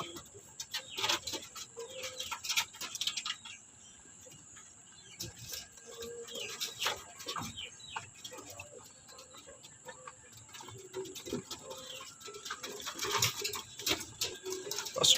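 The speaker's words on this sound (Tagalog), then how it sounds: "papakain pa tayo isang beses ng mga kalapatids dahil di natin sila napakain ng umaga." Racing pigeons in a loft coo softly amid scattered wing flutters, clicks and shuffling, a busy but fairly quiet scene with occasional bird calls.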